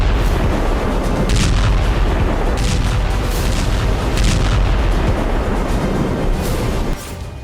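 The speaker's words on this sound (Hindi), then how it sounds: "खेरसोन के राइट बैंक पर लगातार धमाके, आग की लपटें और मलबे के सैकड़ों मीटर ऊंचे गुबार उठते नजर आ रहे हैं" Bombs dropped by aircraft on the right bank of Kherson burst in a dense, continuous barrage of heavy booms and blasts, loud and overlapping with no pause and no voices.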